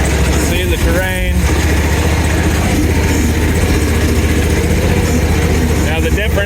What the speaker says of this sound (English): the engine is not throttling down like that